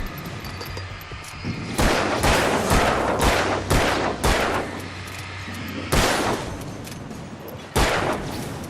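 Gunfire in the video game Alan Wake: loud repeated shots in irregular bursts, each with a heavy boom and echoing tail over a low game ambience.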